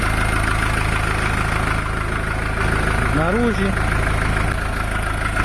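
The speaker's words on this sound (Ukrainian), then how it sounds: "Мотор працює рівненько, тихенько, в принципі приємно працює." A Skaut TE 504 S tractor engine idles with a steady, even drone that fills the whole stretch, close and fairly loud, while someone speaks briefly over it.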